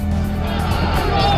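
Crowd at Kiran Bedi's nomination procession from Krishna Nagar in Delhi: a dense, steady roar of many voices and outdoor commotion, loud and continuous with no single voice standing out.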